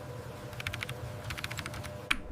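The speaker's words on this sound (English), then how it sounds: "Each key is pressed repeatedly to ensure consistent actuation across the entire layout." Keys on a custom mechanical keyboard are typed during a sound test: clusters of crisp, close clicks come in short irregular bursts over a low steady background hum, ending with one sharper clack.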